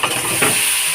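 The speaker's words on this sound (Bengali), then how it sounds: "এবারে ফোড়ন দেব তেজপাতা আর কাঁচা লঙ্কা" Bay leaf and green chilli tempering sizzling in hot oil for a Bengali rohu fish curry with aubergine and potato; a steady close hiss with a brief stirring scrape.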